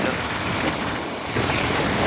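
Sea waves breaking on the shore at Diu, a steady broadband wash of surf with wind buffeting the microphone throughout, close and continuous with no talking.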